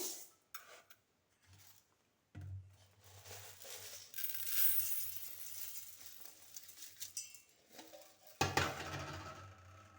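Dry rice grains poured from a bowl into a metal cooking pot for cucumber dosa batter, giving a few bursts of rattling, hissing pours with small clinks and pauses between, close and moderately loud.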